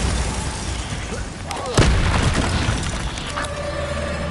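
The Bombarda spell goes off in Hogwarts Legacy during a fight with spiders, landing as one heavy, booming blast over a constant roar of combat noise, with smaller crackles and thuds trailing after it.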